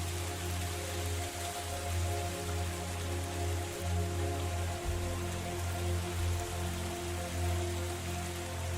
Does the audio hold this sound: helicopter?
no